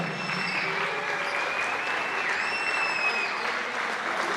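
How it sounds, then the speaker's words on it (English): Sustained applause from a large crowd at a women's college basketball game, steady and even, with faint whistles rising above the clapping. "join me for one more round of applause"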